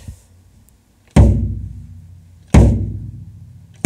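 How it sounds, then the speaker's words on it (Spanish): A 20x16 bass drum struck by a kick pedal, two deep booming hits about a second and a half apart, each with a punchy attack and a long resonant decay, close and loud with no talk. "voy a poner el pedal de bombo."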